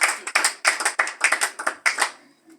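A church congregation breaks into applause with a few irregular bursts of clapping, close and crisp, that thin out and fade away at the end.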